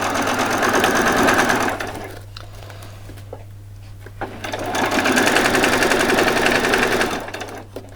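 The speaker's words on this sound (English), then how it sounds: "just going to run that straight down there" A sewing machine stitching a straight seam on a Christmas party dress runs loudly in two long bursts, stopping for a quiet pause between them, with no talking.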